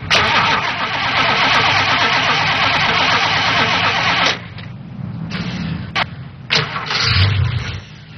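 A car engine cranks and catches after a battery fix, a long loud starter grind running about four seconds before it cuts to quieter idling with a few brief revs.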